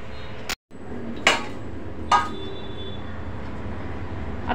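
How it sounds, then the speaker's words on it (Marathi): A pressure cooker lid fitted onto the cooker while wheat cooks for kheer, giving a few sharp metallic clanks and knocks close by over a steady background hum. "आता आपण कुकरचं झाकण लावून घेऊया"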